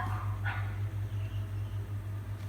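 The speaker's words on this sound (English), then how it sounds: "I got distracted by some dogs barking outside" Dogs outside give a short burst of barking early on, faint and distant over a steady low electrical hum, then only the hum continues.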